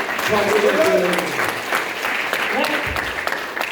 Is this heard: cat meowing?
no